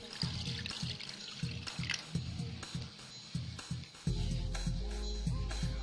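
Neem leaf water being poured, a steady close trickle with small drips and splashes that gets fuller and heavier near the end, with background music and no talk.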